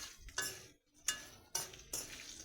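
Stirring pickle ingredients with turmeric in a pan: a utensil scrapes and clinks against the metal in four quick, close strokes, separated by brief pauses.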